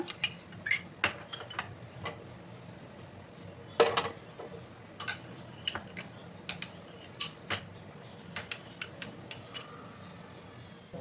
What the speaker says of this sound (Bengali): ডিমের মধ্যে সামান্য একটু লবণ অ্যাড করে ভালো করে এটা ফেটিয়ে নেব